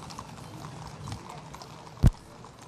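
Horses at the 2015 Chilean military parade on an outdoor parade ground, heard as a low crowd-and-field ambience with one sharp, loud hoof knock near the end.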